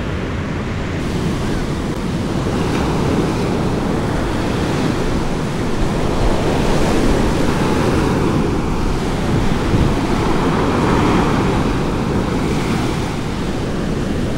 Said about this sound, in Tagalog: Grabe guys, ang lakas ng alon.